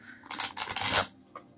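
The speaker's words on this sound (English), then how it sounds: "Shuffle them on my floor over here." Past life oracle cards are shuffled on a floor: a run of soft papery riffles and rubbing swishes, close by, ending in a brief quiet and a couple of light taps.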